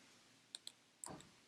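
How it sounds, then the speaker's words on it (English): A few light keystrokes on a computer keyboard while filling in a Confluence page, sparse quiet clicks close by with a brief soft shuffle after them. "she continues to keep typing for the rest of her team"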